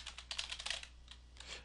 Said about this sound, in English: I'm going to type this real fast.